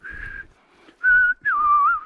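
A person whistles three short, clear tones close by, the last bending downward and wavering before it fades.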